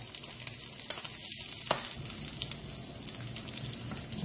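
Cubes of pork belly frying in their own rendering fat, a dense, close sizzle that crackles with sharp pops and spits throughout.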